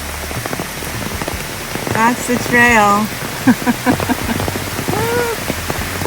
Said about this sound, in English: Okay, it's raining pretty hard.